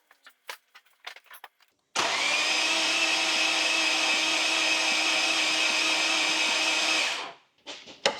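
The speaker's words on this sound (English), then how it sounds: "It's making that high whirring noise, but that's the sound of the starter." An Infiniti engine is cranked by its starter with the spark plugs removed, giving a steady high whirring drone for about five seconds before it winds down, loud and close, with scattered clicks and knocks before and after.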